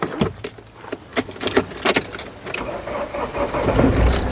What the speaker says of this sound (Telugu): ఒకసారి కారు సింగిల్ సెల్ఫ్లో స్టార్ట్ అవుతుందా లేదా అన్నది చూపిస్తున్నాను